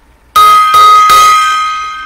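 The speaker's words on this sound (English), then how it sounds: "little gong solo there" A small gong is struck three times in quick succession, loud and close, each hit ringing with a bright sustained shimmer that slowly decays alone.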